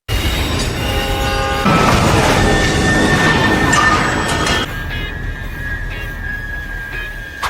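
A train rushes past in a film scene, a loud dense rumble and clatter with ringing tones and a sharp burst midway, then a fading sustained whistle-like tone.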